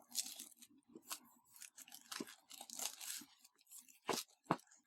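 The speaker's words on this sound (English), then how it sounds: "So let's get rid of this plastic." Plastic wrapping is torn off a Paul Rubens watercolor set at close range, producing quiet, irregular crinkles and sharp ripping bursts.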